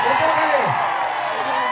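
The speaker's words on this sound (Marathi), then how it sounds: "टाळ्या।" Crowd noise at a Dahi Handi festival in Ichalkaranji, with a dense, continuous roar of clapping and cheering under a loud voice talking over it.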